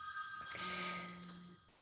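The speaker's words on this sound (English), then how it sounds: "There's a phone in the background." A telephone rings in the background of a room, a sustained electronic ringtone that swells and fades over a couple of seconds, moderately faint with no talking over it.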